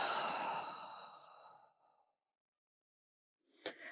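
A long, deep exhale during a yoga breathing exercise in a vinyasa flow, a breathy rush that fades out over about two seconds, followed by silence and then a short, sharp breath near the end.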